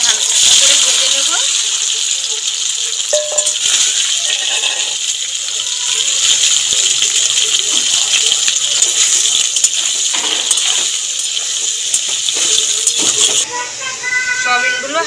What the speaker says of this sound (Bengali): আগে থেকে যে সেদ্ধ করে রেখেছিলাম নুন দিয়ে সয়াবিন, জল ঝরা আছে, এটাকে হালকা করে ভেজে নেব।